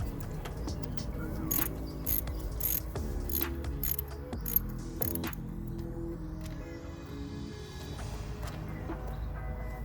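A 13mm socket ratchet loosening the sump plug bolt on a Kawasaki KX250F dirt bike, rapid clicking ratchet strokes in bursts with metallic ticks, fairly close and fairly loud.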